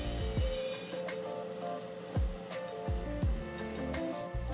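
A belt/disc sander works a workpiece of wood, aluminum or plastic, giving a steady abrasive rasp over a motor hum, with repeated knocks and thumps as the piece shifts. The sound is close, with no voices.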